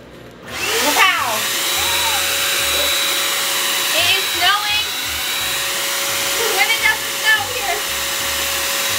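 A snow machine blows fake snow with a steady, loud whooshing hum that runs nearly unbroken after a quick start, while faint voices occasionally come through.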